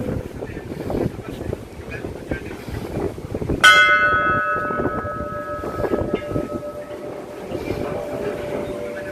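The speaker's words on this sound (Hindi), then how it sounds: "वो घंटी बजाओ।" A single bright temple bell strike at a Shiva shrine rings out clearly and sustains with a slowly fading metallic tone, amid windy outdoor noise and movement.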